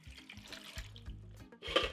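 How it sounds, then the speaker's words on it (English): Water is poured into a steamer pot holding carrot chunks, giving a short close splash and trickle over faint clinks, which swells into a brighter gush right at the end. "Add some water."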